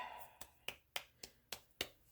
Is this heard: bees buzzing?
no